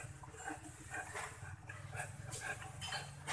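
An English Mastiff barks and whimpers in a series of dog vocalizations, moderately faint and close, with no talk over them.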